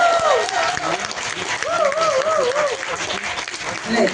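Audience at a Tamil debate forum (pattimandram) breaking into steady applause with laughter, a dense continuous crowd wash lasting the whole stretch while a voice speaks over it.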